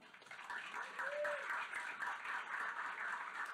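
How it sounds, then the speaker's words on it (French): A lecture audience claps warmly to welcome a presenter at an evening talk on social struggles; steady, moderate applause fills the room, with a brief voice rising faintly in the middle. "On l'applaudit chaleureusement."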